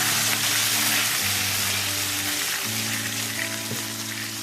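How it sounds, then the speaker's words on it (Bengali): Water poured into a hot pan while cooking a potato, eggplant and papad curry gives a loud, steady, close hiss and sizzle. "এর মধ্যেই আমরা একটুখানি জল মিশিয়ে নেব"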